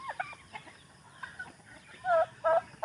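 Chickens cluck in short bursts, a few faint calls early and louder, closer clucks near the end against an outdoor background.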